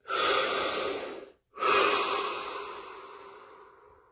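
A deep breath during a guided relaxation session: a long, airy inhale followed after a brief pause by a slow, fading exhale, close and alone with no talk.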